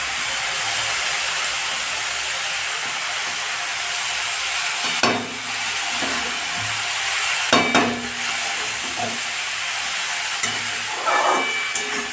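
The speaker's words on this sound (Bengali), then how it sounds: "মশলার সঙ্গে বাঁধাকপিটাকে ভালো করে কষিয়ে নিচ্ছি" Cabbage frying with spices in a pan for a cabbage and green pea dish, a steady sizzle running throughout with occasional stirring scrapes and clatters close by, no talking.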